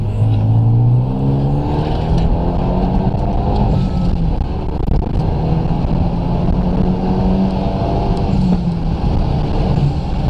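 A Renault Megane 3 RS turbo accelerates hard on the road, its engine droning loud and continuous from the cabin as the pitch climbs and falls with each gear change.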